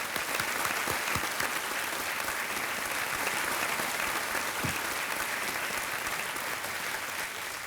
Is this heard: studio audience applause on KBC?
yes